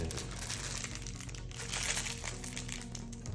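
Plastic packaging from a diamond painting kit crinkles and crackles continuously up close, a dense, busy rustle with no pauses.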